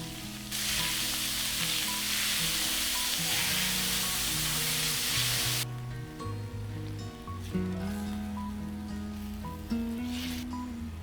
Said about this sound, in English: Then I add in ground beef and I stir fry on medium heat until beef starts to brown.